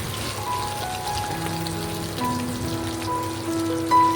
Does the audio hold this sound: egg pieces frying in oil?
yes